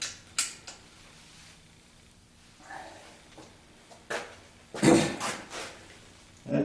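Bolts being snugged down on a water pump during an install on a 1976 Corvette restomod, heard as scattered short metallic clicks and creaks with quiet gaps, close up and alone.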